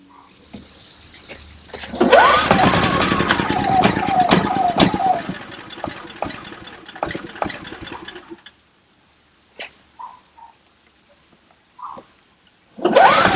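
Portable generator running on fresh gasoline treated with Sta-Bil: its engine catches and runs steadily at close range for several seconds with clicks and a rising whine, then shuts off, leaving quiet with a few faint knocks.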